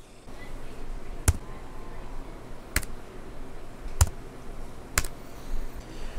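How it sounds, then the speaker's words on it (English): Four sharp, isolated clicks of Lenovo Flex 5 14-inch laptop keys being pressed, spaced about a second apart over a faint background hum. "I'll point my mic down at the keyboard and I'll turn the gain up and you can hear when I hit the key."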